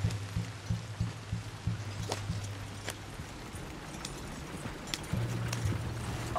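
A horse gallops in Red Dead Redemption 2, its hooves beating in a quick, steady clip-clop rhythm that pauses midway and then resumes, close and clear with no talk.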